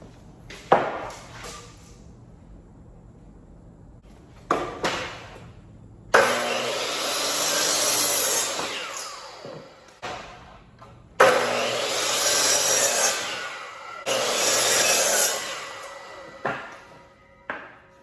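Hand or power sawing through 2x4 lumber while building a workbench frame: several long, loud rasping cutting passes interspersed with short knocks and handling clatter, close to the microphone, no voices.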